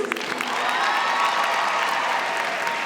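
Sustained, dense applause fills a hall at a college commencement ceremony, many hands clapping at once with a little cheering mixed in, loud and even from start to finish.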